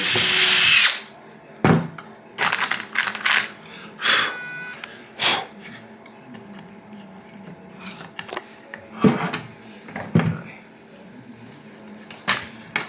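A power drill drives screws into a wooden bed hinge inside a Cadillac Escalade being fitted out for camping, with repeated loud bursts of whirring separated by short pauses and handling clatter.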